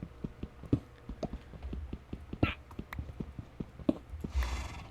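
A horse walks in a video game, its hooves making a steady run of soft, fairly faint clopping steps, with a brief louder rustle near the end.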